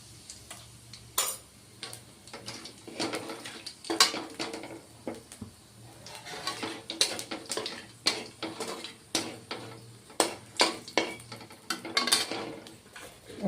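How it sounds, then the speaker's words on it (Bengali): Black cumin seeds sputter and crackle in hot oil, a series of sharp irregular pops close by with scattered metallic clinks of a spoon against the pan. "ওই তেলের মধ্যে দিয়ে দিলাম বন্ধুরা ছোট চামচে এক চামচ কালো জিরে ফোড়ন দিচ্ছি"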